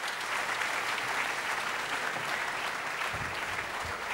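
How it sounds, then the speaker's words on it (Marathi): Strong, sustained applause from a large audience at the opening session of a Nashik cultural event, dense and even throughout, with a few heavier low thumps toward the end. "तर त्यासाठी सुद्धा जोरदार टाळ्या झाल्या पाहिजे"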